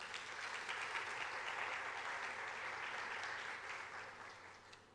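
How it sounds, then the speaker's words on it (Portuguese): A church congregation claps together in a sustained, even burst of applause that holds steady and slowly thins toward the end. "Dê um aplauso ao Senhor por isso."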